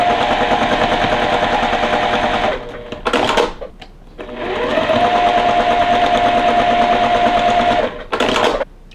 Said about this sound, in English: I'm gonna sew my center ones first.